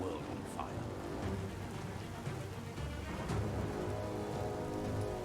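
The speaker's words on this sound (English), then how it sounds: "He just decided it's raining." Steady rain hisses across the scene in the video game Biomutant, a dense even wash of falling drops filling the whole stretch with a faint rumble underneath and no clear pauses.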